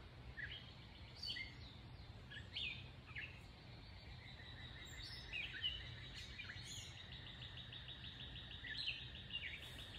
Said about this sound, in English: Hopefully you can hear all the little birds chirping in the background.